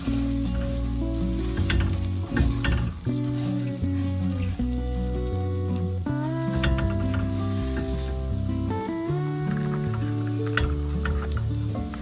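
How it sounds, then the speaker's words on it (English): Rice and pasta toasting in a pan as they are stirred, a constant sizzle with soft stirring scrapes, heard beneath steady tonal backing music. "Now you will stir it through and lightly toast it for a few minutes."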